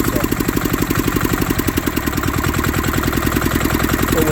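A 1965 Honda motorcycle converted to diesel power runs on its center stand with a loud, close, rapid chugging beat, steady and rhythmic throughout.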